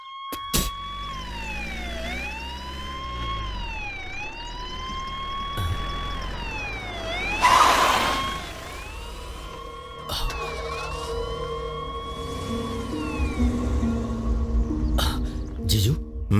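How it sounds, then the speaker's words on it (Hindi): A police car siren wails in repeated rising and falling sweeps, moderately loud, as the car pulls up and stops, with a brief noisy rumble partway through and other street sounds beneath. "वो देखो पुलिस की गाड़ी आकर रुकी है।"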